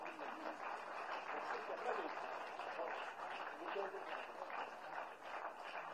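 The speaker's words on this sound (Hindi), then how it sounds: "हम लोग जोरदार तालियों की गूंज से" Faint, distant applause from a crowd at a ceremony offering garments to Shri Ram attended by CM Yogi, a dense, steady patter of many hands clapping continuously.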